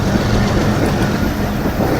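A passenger train led by DU40 locomotive 9029 rolls past, giving a loud, steady, close rumble of wheels and engine with no pause.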